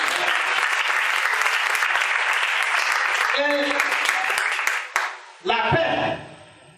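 Church congregation applauding steadily, a loud, dense wash of clapping that dips and stops near the end, with voices rising briefly over it.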